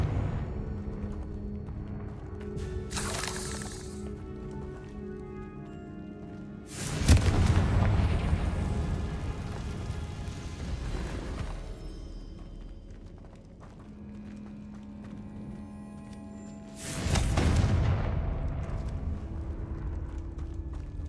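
Confringo blasting spells from Hogwarts Legacy go off in a few heavy booming bursts, one brief blast early and two big explosions later, over a low rumbling game backdrop.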